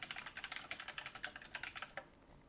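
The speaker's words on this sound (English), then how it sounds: "mechanical keyboard" Rapid, close typing on a mechanical keyboard, a steady run of sharp clicky keystrokes that stops abruptly near the end.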